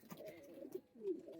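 Pigeons in a loft cooing softly nearby, two short low throaty coos with a brief pause between, faint overall.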